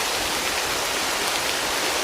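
Steady video-game rain hisses evenly throughout, a dense, unbroken wash of sound with no pauses or voices.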